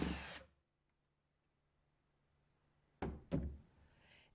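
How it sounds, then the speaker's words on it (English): A power drill at full speed bores a pocket hole with a Kreg jig. A loud whirring burst comes first, then a quiet pause, then two more close, sharp drill bursts. "Then turn on the drill full speed and plunge into the material."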